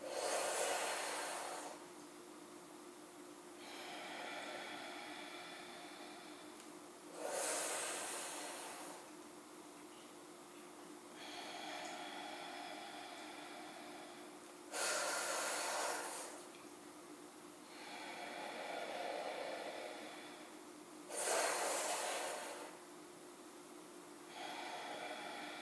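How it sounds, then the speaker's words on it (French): Slow, deliberate nasal breathing during a calm pranayama exercise, with long breaths drawn in and let out through the nose in a steady cycle, close and quiet with soft pauses between breaths. "fermez la bouche et expirez avec le nez"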